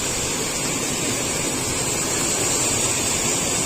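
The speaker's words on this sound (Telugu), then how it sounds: "ఇటు బ్రిడ్జ్ కింద అయితే వాటర్ పోతున్నాయి." River water rushes beneath a bridge at Jayamangli River point near Hindupur, a steady, loud wash of broadband noise with no break and no voices.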